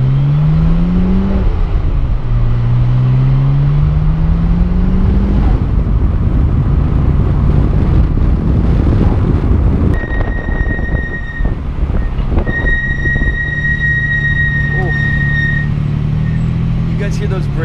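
A 1989 Nissan Skyline GT-R drives along, its engine droning loudly from inside the car and rising and falling in pitch as it revs through gears, with steady road rumble beneath.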